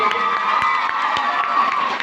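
Audience at a youth festival opening ceremony cheering, shouting and clapping for a school, a loud continuous crowd roar with children's shouts and scattered claps throughout.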